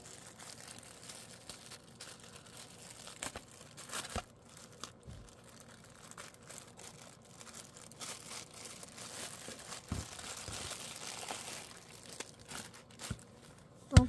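A plastic bag of trading cards is opened slowly, with faint, intermittent crinkling and soft rustles up close that grow busier near the end and finish with a sharper crackle, with no talk.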